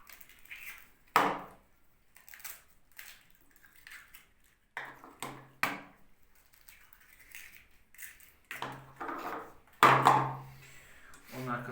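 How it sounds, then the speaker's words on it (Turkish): Eggs are cracked into semolina dough for şekerpare, making a handful of sharp, close taps and cracks spaced a second or more apart, some with a short wet tail, in an otherwise quiet kitchen. "Ondan sonra yumurtalarımızı kırıyoruz."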